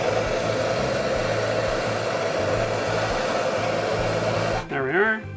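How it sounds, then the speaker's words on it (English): A torch flame roars steadily and loudly, heating a plumbing valve body for soldering, then cuts off abruptly near the end, leaving a brief squeaky metallic sound. "we're going to heat up the valve body and slide this up"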